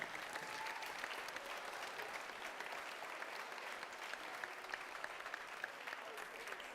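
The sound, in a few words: applause at a FIRST Tech Challenge award ceremony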